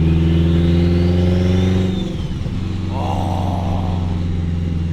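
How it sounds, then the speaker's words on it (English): An 800 hp turbocharged AWD Acura RSX Type-S engine pulls hard, a loud steady drone heard from inside the car that eases off midway as the throttle lifts, with turbo whistle and flutter rising after the lift. "the turbo sound is so insane on this car"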